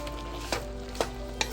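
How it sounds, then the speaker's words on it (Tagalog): Steady low sizzling and bubbling of beef broccoli in a pan, with a few soft clinks of stirring scattered through. "kumukulo-kulo"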